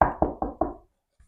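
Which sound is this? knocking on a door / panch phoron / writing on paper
knocking on a door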